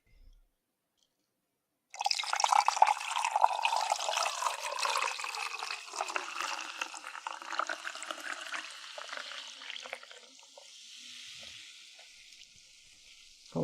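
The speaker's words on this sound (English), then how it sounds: "And we're going to do a pour." Liquid is poured, starting abruptly after near silence as a steady, hissing splash that holds for several seconds and then gradually thins and tapers off.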